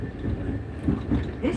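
A passenger train heading to Alloa rumbles along steadily, carrying a low rolling clatter and faint interior hum, with a voice partly audible over it.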